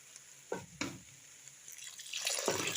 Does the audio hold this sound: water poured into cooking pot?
yes